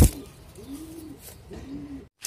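A pigeon coos twice, soft low throaty calls close by, with a brief pause between them.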